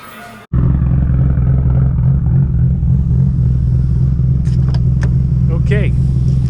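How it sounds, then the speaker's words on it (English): A Nissan R32 GT-R with Brembo brakes drives while the brakes are bedded in, a loud close engine drone starting abruptly after a quiet moment, with someone talking over it. "We're bedding the brakes in now. So I'm gonna have to do a couple of pretty hard stops."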